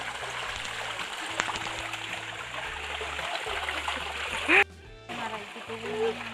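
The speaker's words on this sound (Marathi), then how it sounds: "पाहू शकता किती मस्त असे हे खळखळते असे पाणी आहे" Water babbles and splashes steadily over rocks, a continuous close rush with a voice briefly speaking over it.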